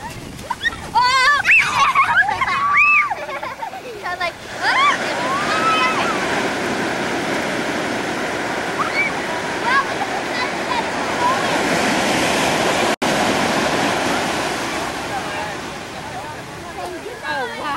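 Ocean waves break on a shore with a broad, continuous rushing wash, loud and close, while people talk over the opening seconds.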